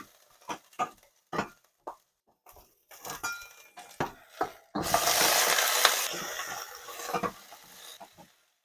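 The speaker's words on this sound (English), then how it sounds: "When the oil is hot, put in ginger and the green onions" Ginger and green onions drop into hot oil in a wok for Chinese braised pork ribs: a few sharp utensil clinks, then a loud, dense sizzle burst for about two seconds that tapers off under stirring scrapes.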